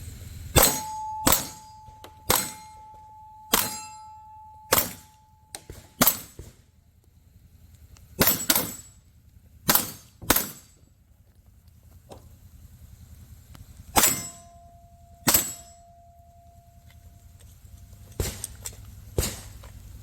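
Gunshots during shooting training ring out on steel targets as sharp cracks followed by metallic clangs, many spaced shots with some pairs, loud and alone.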